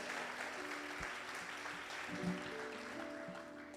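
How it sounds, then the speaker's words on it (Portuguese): Church congregation applauding during a worship service, a soft continuous patter of many hands with faint sustained tones underneath, fairly distant and quiet throughout. "Dê um aplauso ao Senhor com alegria, Ele merece."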